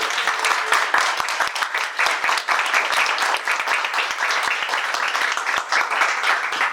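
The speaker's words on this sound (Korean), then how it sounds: "박수 한번 부탁드리겠습니다" Audience applause at a tooling program completion ceremony, steady and dense clapping from a room full of people that holds a constant loud level throughout, with no talk over it.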